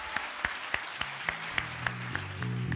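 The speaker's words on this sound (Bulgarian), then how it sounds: "вашите аплодисменти за летящия тандем" Applause from the audience at an award ceremony, with a few sharp, evenly spaced claps standing out over a steady wash, while low sustained tones swell underneath toward the end.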